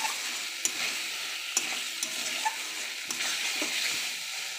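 Spice paste of dried chilli, cumin, onion, ginger and garlic frying in a pan, a continuous close sizzle with small spatters and occasional stirring clicks, no talking.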